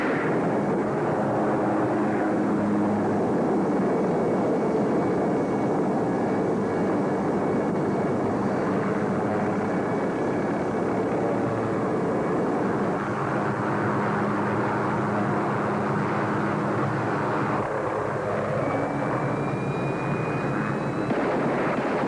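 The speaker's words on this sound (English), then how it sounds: "They got a chopper up here." A helicopter flies overhead, a steady broad engine and rotor roar that fills the whole stretch, fairly loud and unbroken, with a faint rising whine near the end.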